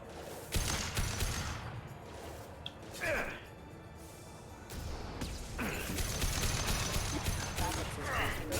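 Gunfire in a Mass Effect 2 fight on Illium: bursts of shots and impacts, a whooshing sweep, and clanking mechanisms, mixed with game sounds at moderate loudness.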